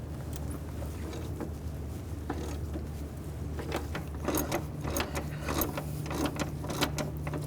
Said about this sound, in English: we're going to use an E12 socket. Take these two bolts out in the front.